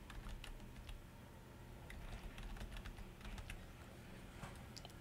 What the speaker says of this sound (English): Let me just put in a different password